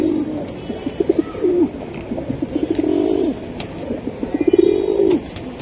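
Nafta pigeons cooing close by, several rolling, throaty coos and bubbling calls that repeat and overlap in short bursts over a faint background hiss, with no talking.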